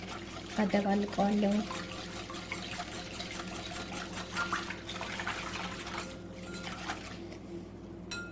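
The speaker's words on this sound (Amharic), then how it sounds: "አሁን ውሃውን እርሾና ስኳሩ ላይ እገለብጠዋለሁ" Warm water pours briefly onto yeast and sugar for homemade sandwich bread, a short splashing fill near the start, followed by kitchen clatter while someone talks.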